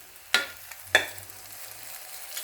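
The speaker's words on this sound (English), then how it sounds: "sizzling sound" Omelette pasta fries in a single pot with a steady, soft sizzle, broken by two sharp clicks from a utensil.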